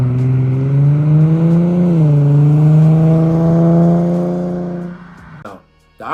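An Infiniti G37 fitted with an ISR single exit exhaust holds a loud, steady deep drone that dips slightly in pitch midway, then fades and cuts off near the end.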